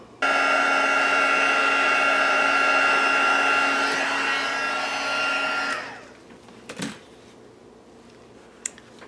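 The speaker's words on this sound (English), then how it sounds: "go over this with the heat gun to make that embossing pop up" A heat gun blows hot air over embossing powder on a craft tag, a loud steady whirring hiss for about five and a half seconds before it switches off, followed by a few faint clicks and taps.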